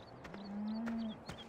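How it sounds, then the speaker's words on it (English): A single long, close cow moo from a livestock herd in the Farming Simulator farming game, steady and drawn out over low ambient farm noise. "Yes, we have cows."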